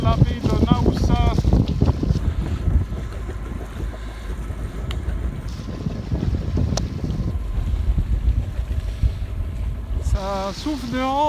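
Wind blowing on a sailboat leaving the bay of Naoussa, Paros: a loud, continuous rushing gust noise with buffeting across the microphone, broken by brief voices at the start and end.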